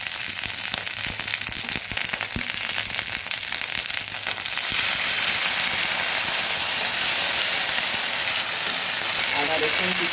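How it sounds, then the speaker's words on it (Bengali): Ginger and garlic paste fries in a pan with a splash of water while making chana masala, a loud, steady sizzle that thins out midway into a bright, hissing spatter with occasional crackles. "আদা রসুন কিছুটা ভাজা হয়ে আসছে"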